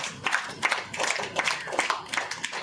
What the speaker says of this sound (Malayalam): നന്നായി കൈയടിച്ചു കൊടുക്കും നന്നായിട്ട്